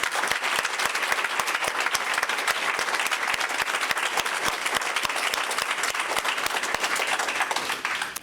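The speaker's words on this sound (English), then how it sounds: "please join me in one more round of applause." Sustained audience applause at a library research awards ceremony, many hands clapping steadily and densely at a constant loud level, tapering slightly at the very end.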